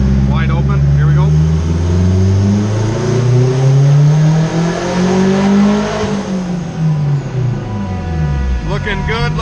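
A turbocharged Acura RSX engine on a dyno revs at wide open throttle, its pitch climbing loudly through a long pull before falling away as it winds down, close and dominant over the room.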